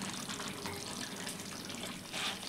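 Water poured into a pan of beans and tomato curry while cooking, a soft continuous splashing trickle, fairly quiet and alone without talk.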